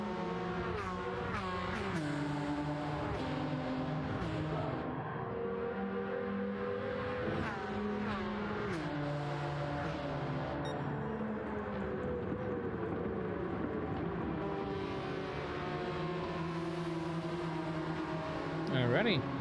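A Porsche race car engine in the Gran Turismo 7 racing game drones and shifts pitch continuously through gear changes, steady and prominent, with a voice talking over it at times.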